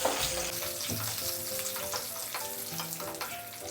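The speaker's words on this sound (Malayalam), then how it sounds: "ഇനി നമുക്ക് കുറച്ച് അണ്ടിപ്പരിപ്പ് ഇട്ട് കൊടുക്കാം. അതിലേക്ക് ഒന്ന് വറുക്കാം." Cashew nuts fry in hot ghee for a banana payasam, a steady close sizzle and crackle that holds throughout, with faint stirring scrapes mixed in and no talking.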